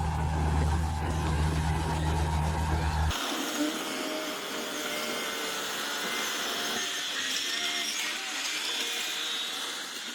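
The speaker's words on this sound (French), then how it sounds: "tous ces camions-bennes ont déchargé la boue sur place" Dump trucks unloading mud at a construction site: a loud, steady engine drone gives way after about three seconds to a broad, continuous hiss and rumble of machinery.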